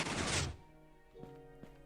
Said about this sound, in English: all of those pistons should fire.